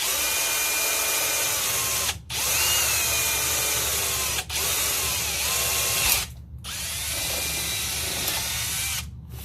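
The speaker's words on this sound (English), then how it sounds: "So we're going to go ahead and drill this hole here." A step bit drilling a quarter-inch hole while installing gauges in a Datsun 620, a steady loud power-drill whine running continuously in three long bursts separated by brief pauses, with no talking.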